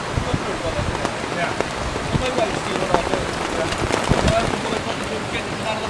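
Torrential rain during a weekend camp, a dense steady hiss of drops drumming on a surface with sharper close patters and some wind throughout, loud and continuous.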